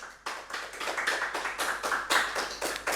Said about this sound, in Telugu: జగద్గురు బ్రహ్మర్షి పితామహ పత్రిజీ గారికి ఒకసారి గట్టి క్లాప్ చేద్దాం